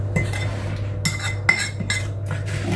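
A spoon clinks and scrapes around a bowl, mixing a peri peri chicken marinade. Several distinct metallic taps and stirring strokes sound close by over a steady low kitchen hum, with no talking.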